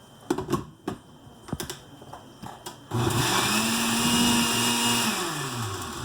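After a few soft clicks and taps, an electric blender kicks on loudly and runs steadily for about three seconds, pureeing a thick, creamy corn chowder. Its motor whine holds a sustained pitch, then drops as it begins to wind down.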